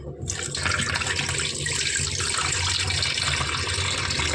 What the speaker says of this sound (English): This water, it's so dirty. So I'm going to rinse it.